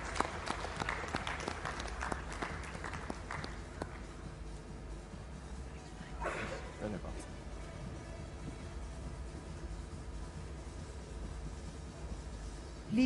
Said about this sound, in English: Please give a huge round of applause to Kirti Patel, CTO, Kotak Life Insurance.